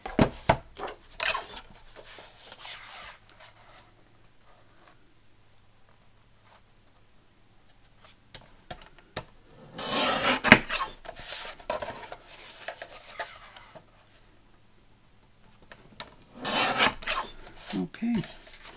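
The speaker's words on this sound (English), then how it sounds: "Okay, so let's just cut those down. Let's just get the guillotine out." A paper guillotine slices through stacked junk journal pages in a few separate bursts, each a short rasping, scraping cut with quieter handling between, close by.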